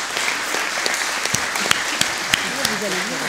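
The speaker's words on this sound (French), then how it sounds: "il nous reste à remercier les trois orateurs en les applaudissant" An audience claps for three speakers at a French science talk on antibiotics, a dense, steady patter of applause filling the room, with a voice speaking faintly beneath it toward the end.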